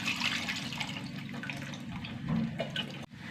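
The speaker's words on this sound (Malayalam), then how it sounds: "ഇതിലേക്ക് പുളിവെള്ളം ഒഴിക്കുക കേട്ടോ" Tamarind water poured into simmering sambar in a home kitchen, a steady close liquid rush and splash running for about three seconds before cutting off abruptly, no talking.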